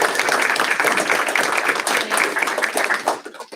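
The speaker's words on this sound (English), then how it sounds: "applause." An audience at a school district board meeting gives a round of applause, a dense patter of many hands clapping steadily before it thins and fades out at the end.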